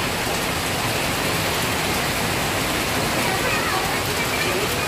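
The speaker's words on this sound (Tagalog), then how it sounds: "lakas po ng ulan mga kalingap po." Heavy rain pours in a dense, steady hiss that fills the whole stretch, loud and unbroken.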